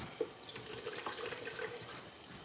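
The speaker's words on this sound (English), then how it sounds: "put some water in it." Water runs from a tap into a container for Korean soup broth, a soft, steady trickling and splashing at close range with small bubbling accents.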